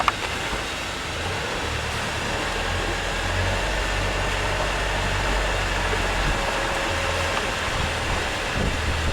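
Yacht engine running astern while berthing in a marina, a steady low rumbling drone that holds at an even level throughout, with no talk over it.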